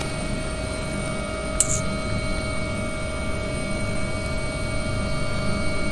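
An AW139 helicopter in a flight simulator game spools up for takeoff with a steady turbine whine and engine drone, holding constant with one brief click partway through.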